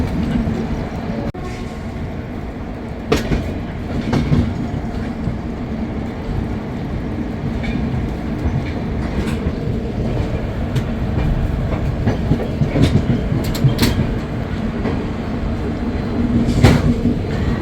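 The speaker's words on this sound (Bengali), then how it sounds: "ট্রেন এবার লাইনে উঠে যাচ্ছে আস্তে আস্তে। লাইনে ওঠা মানেই ট্রেন এবার স্পিড নিয়ে নেবে।" Shalimar SF Express running on the track as it picks up speed, a steady rumble of rolling coaches with intermittent clicks and clacks of wheels over rail joints, continuous and fairly loud throughout.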